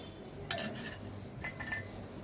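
Metal utensils clink against a bowl as agar powder is stirred into a dessert mixture. There are two clusters of close, bright clinks and scrapes over quiet background noise.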